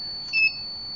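An embedded locker system's alarm gives one short, clean electronic beep, a steady high tone sounding briefly and alone against a faint background hum.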